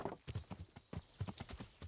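Horse hooves clip-clop in a steady, quick rhythm while riding in the video game Kingdom Come, the regular thuds close and clear with no talk over them.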